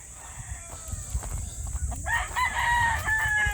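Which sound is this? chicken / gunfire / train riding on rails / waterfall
chicken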